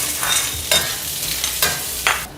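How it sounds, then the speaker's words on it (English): Shallots, garlic and ginger hit hot oil in a wok, giving a loud close sizzle with periodic scraping stirs. "Add a bit more oil. Add the shallots, garlic and ginger."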